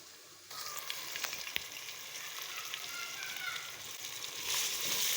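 Red chili, turmeric, garam masala, dried coriander and salt frying with tomatoes and green chilies in a pan for tori chana dal, a steady close sizzle that swells louder near the end with no talking.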